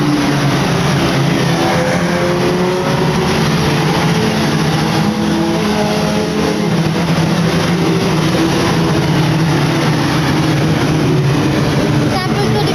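Old racing cars in a legend car cup race around a track, their engines making a constant loud, droning roar that swells and fades slightly as they pass, with a commentator talking over it.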